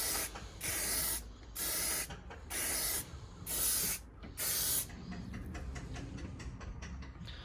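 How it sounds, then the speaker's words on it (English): Aerosol can of Hammerite hammered-finish paint spraying a light first coat onto a 1998 Suzuki GSX-R 600 SRAD fuel tank bracket: five steady hissing bursts of about a second each with short pauses, close and alone. "Give it its first coat, nice light dusting."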